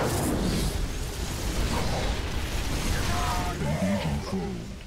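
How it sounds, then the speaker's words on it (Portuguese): Gunfire and explosions from a StarCraft 2 battle make a dense, continuous roar of blasts and bursts, with a voice talking over the game noise. "Deixa eu soltar alguns tiros aqui para agilizar."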